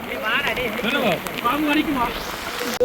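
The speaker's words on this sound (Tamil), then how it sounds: "சரியான மழை பெய்யுது" Steady heavy rain hisses in the background at a flooding beach while a person talks over it.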